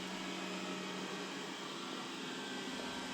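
A Dreame D10s Pro Plus robot vacuum cleaner runs with a steady, broadband whirring hiss and a constant hum, close by and alone without talk.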